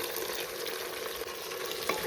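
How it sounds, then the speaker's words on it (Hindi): Potatoes and kidney beans (rajma) sizzle and fry in a hot tempered-spice tadka in a pan, a steady close crackling hiss with faint stirring scrapes throughout. "तो सब्जी में मैंने तड़का लगा दिया है और आलू भी मैंने डाल दिए हैं।"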